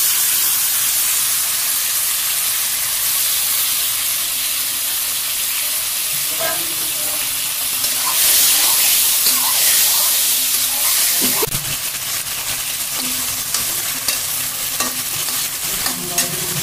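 Fish sizzling and frying loudly in hot oil in a pan, a steady close hiss with stirring clatter and spatter bursts that intensify partway through; no talking.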